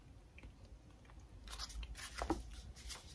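Crunchy snack food from a subscription box is bitten and chewed close to the mic. Crisp crunches cluster in the second half, quiet and without talk.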